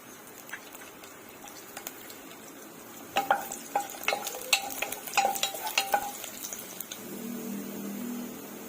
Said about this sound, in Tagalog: At igisa na natin ang ating bawang at sibuyas.